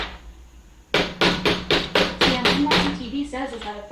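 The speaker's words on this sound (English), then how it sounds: "is that a Thor hammer?" A kitchen hammer pounds repeatedly while gyoza are being made, about nine quick heavy strikes in a steady rhythm. They are close and loud, with a voice speaking alongside.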